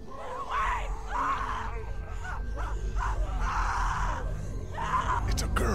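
A girl's repeated screams and wails in The Walking Dead episode 3, loud bursts recurring across the stretch, with a low game ambience and music bed underneath.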